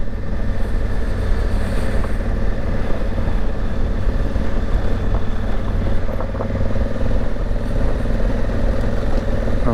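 Honda Africa Twin motorcycle riding in Morocco, with a steady, close engine drone and continuous road and wind rumble throughout, no voices.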